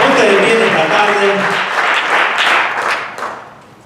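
Congregation applauding during a Spanish-language church sermon, a dense wash of clapping that is loud at first and fades toward the end, with a voice or two calling out over it.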